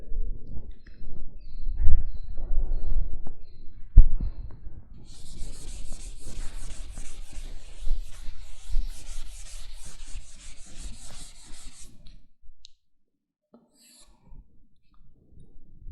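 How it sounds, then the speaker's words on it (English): Rubbing of an eraser across a classroom board after electronics lecture notes, a steady scratchy swish running for several seconds, then stopping into near silence with a few faint taps. "I will erase this."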